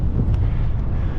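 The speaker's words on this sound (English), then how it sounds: "Far too windy there for me to try and ride one-handed." Strong wind buffeting a microphone on exposed moorland near Saddleworth, a loud, continuous low roar with rumbling gusts that fills the short stretch without any pause.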